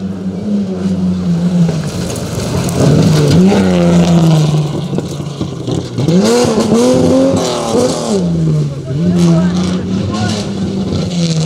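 A Datsun 280Z sports car races hard on a gravel rally stage at the East African Mini Classic Rally, its engine loud and close, climbing and dropping through repeated revs and gear changes, with a voice talking over the roar.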